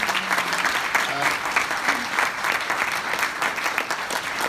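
An audience applauds Fiona and her team at a presentation, a dense, steady wash of many hands clapping together, with a few brief voices underneath.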